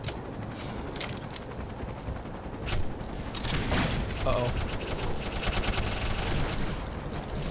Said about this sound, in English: guys, why don't you shoot at the alien and not the human?